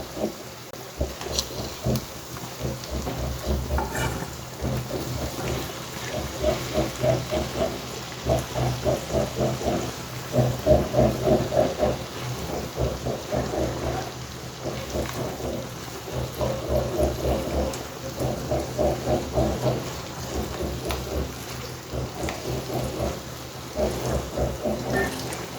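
Okra being stirred and fried in a pan for a dry ladyfinger dish, a steady crackling sizzle running throughout with repeated bursts of scraping and stirring, fairly loud and close, no talking.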